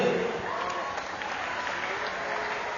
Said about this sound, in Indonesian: tepuk tangan untuk kawannya kali